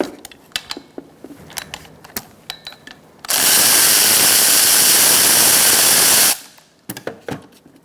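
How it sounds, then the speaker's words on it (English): A power tool whirs steadily for about three seconds while loosening the brake caliper bracket bolts on a 2014-2019 Kia Soul during rear brake work, with small clicks and clanks of handling before and after. "I'm going to loosen these bolts to separate the bracket from the caliper"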